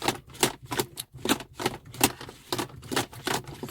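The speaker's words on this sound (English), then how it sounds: "Then you can just unscrew your gear stick." Ford Focus ST gear stick being unscrewed by hand, a run of repeated clicking, ratcheting ticks at a steady uneven rhythm, close and fairly quiet.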